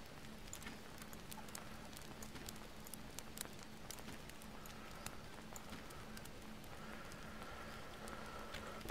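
Rain falls steadily in the jungle survival game Green Hell, a faint, even patter of drops with scattered sharper hits and a low background hum, no talking.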